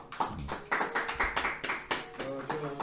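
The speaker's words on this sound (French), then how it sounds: "Nous applaudissons le Seigneur bien fort." A church congregation claps in a quick irregular rhythm, a dense burst of hand claps with a voice or singing mixed in underneath.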